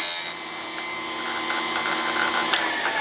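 An electric chainsaw sharpener's grinding wheel whines steadily against a saw chain, a continuous high-pitched grind after a brief louder burst at the start.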